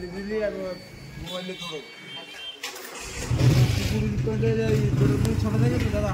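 A TVS Apache RTR motorcycle, running on a small amount of petrol, starts up after a brief quiet gap and settles into a steady loud idle with light revving, while people talk over it.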